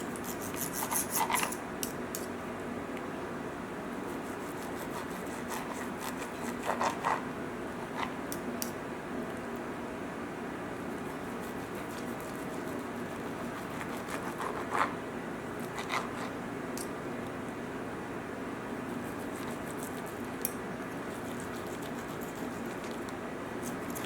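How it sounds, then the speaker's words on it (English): Cooked steak sliced with a knife on a board, repeated soft rasping cuts with occasional light knocks, close and fairly quiet throughout. "We're going to start to slice one of the steaks."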